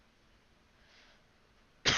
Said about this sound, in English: Sorry about the coughing into the mic.